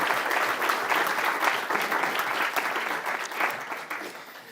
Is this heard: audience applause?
yes